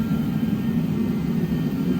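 A Peter Heater 1000 space heater running in a shop during a truck engine removal, a constant loud roaring blower hum with no breaks.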